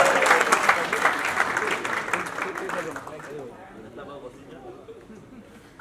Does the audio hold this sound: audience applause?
yes